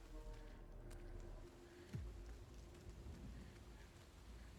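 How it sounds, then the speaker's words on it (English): Steady rain falls in the video game The Medium, a faint, even patter and hiss with a low rumble beneath, continuing unbroken without talk. "I'd assume it's raining the whole game."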